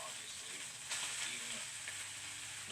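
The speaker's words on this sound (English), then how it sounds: "And technically speaking, we are frying the rice." Rice fries in a pan with a steady, soft sizzle and hiss, heard close, with a faint stirring scrape partway through.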